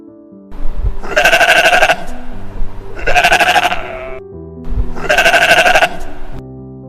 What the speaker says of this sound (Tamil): செம்மறியாடு.